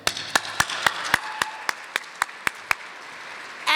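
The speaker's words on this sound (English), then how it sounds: "I think we need to give an applause for New Mexico's future." A gathering at an Early Childhood Day event claps along in a slow, evenly spaced run of about a dozen sharp hand claps, close and distinct, ending in a burst of fuller noise.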